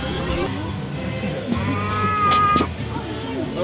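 An ox moos at an outdoor Christmas nativity scene during an evening lights walk in a park, a drawn-out low call heard close amid crowd murmur and voices.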